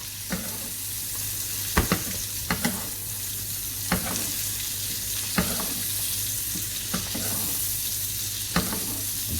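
Steak sizzling steadily in a hot pan while being basted, a continuous frying hiss with several sharp spoon clinks and spatters punctuating it at irregular intervals, close and fairly loud with no talking.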